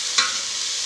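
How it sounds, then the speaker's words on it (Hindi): Onions fry in a pan with a steady, bright hiss that fills the moment, and one brief stir or scrape rises near the start; close and continuous, with no voices. "ये मेरे प्याज भुनने लग रहे हैं"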